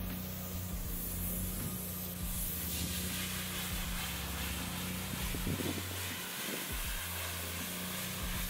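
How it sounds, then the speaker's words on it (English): Spray foam insulation sprays with a steady, loud hiss and a low mechanical hum underneath, continuous for several seconds with brief dips near the end. "spray foaming done"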